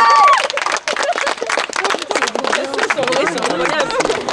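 Applause and cheering from the crowd at the Chaapars d'or 2020 award ceremony, a loud, dense burst of clapping mixed with crowd noise.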